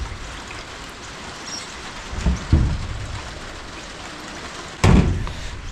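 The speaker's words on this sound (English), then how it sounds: "There's a rain coming down again." Rain falls on a metal roof fitted with solar panels, a steady hissing patter across the whole span, broken by a couple of sharp thumps near the middle and one more near the end.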